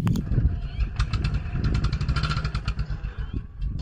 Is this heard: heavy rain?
no